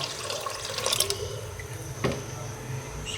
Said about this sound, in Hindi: ये तकरीबन 1 लीटर पानी है। ये मैं कुकर में डालूँगी।